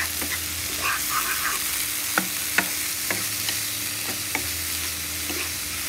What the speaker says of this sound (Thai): แล้วผัดให้สุกนิดนึง